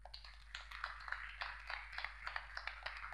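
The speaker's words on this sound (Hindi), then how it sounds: "इस संस्था के लिए एक जोरदार तालियां" Audience applause breaks out at an Ayurveda wellness event in Pune marking World Diabetes Day, a steady patter of many hands clapping, fairly faint and distant, lasting a few seconds with no one speaking over it.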